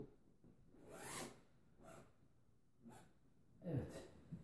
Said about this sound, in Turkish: Dış taraftan tek yönlü bir fermuar var.